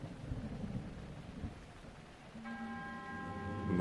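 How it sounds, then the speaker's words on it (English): Thunder in the video game Breath of the Wild, on the stormy Thundra Plateau, rolls as a low rumble with rain-like hiss, then a soft ringing chime rises toward the end; no voices. "Yeah, it's just thunder all the time."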